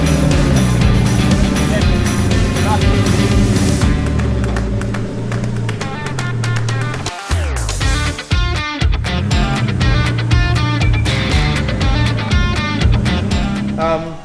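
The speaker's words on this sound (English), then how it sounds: "we're taking the car off the trailer now." An R32 Skyline barn find is unloaded off a trailer, with loud mechanical and engine-like tones shifting throughout and sharp clanks and knocks toward the middle, all heard close up.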